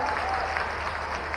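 Loud, dense applause from a crowd of schoolchildren at a tribal students' award ceremony in Khandwa, a steady unbroken roar of clapping with no gaps.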